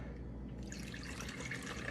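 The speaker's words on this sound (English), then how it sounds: "Now I'm just gonna fill up my water cup." A cup is filled with homemade flavored water, a soft continuous pour and trickle of liquid that grows slightly brighter as the cup fills, fairly quiet and close.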